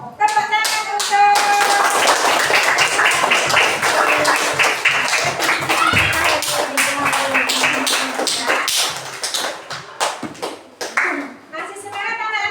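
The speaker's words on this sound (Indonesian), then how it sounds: "Tepuk tangan untuk" A class of children clapping hands in a classroom, loud rhythmic claps with overlapping voices of the students and teacher mixed throughout.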